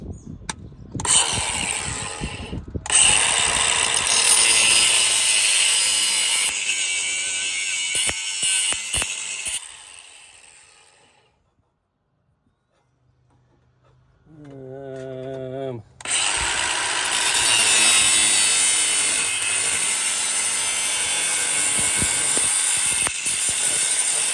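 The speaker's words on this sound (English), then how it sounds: "See if the mobile grinder can get it off." A handheld grinder works on scrap metal with a loud, harsh whine that runs for several seconds and then cuts off. After a quiet gap and brief talking, the grinding comes back just as loud and steady until the end.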